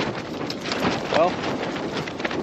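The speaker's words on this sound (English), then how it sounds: "it is windy up here. Nowhere to get out of the wind where I'm at." Wind blows across an open ridge top on public land in mule deer country, a gusty rushing buffet against the microphone, close and steady, with a brief faint tonal chirp partway through.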